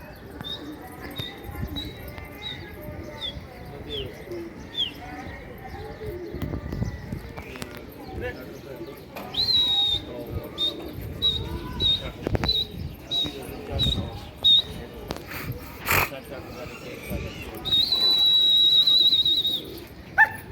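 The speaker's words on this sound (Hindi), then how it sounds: "ये लड़ते हुए कबूतर है, सही।" Fancy pigeons coo, fight and flap amid a busy outdoor din, with high whistling calls recurring and people talking nearby throughout.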